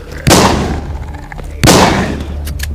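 Two sharp gunshots ring out in the zombie video game The Walking Zombie 2 as a dog is fired on, each a loud burst with a decaying tail, spaced about a second and a half apart.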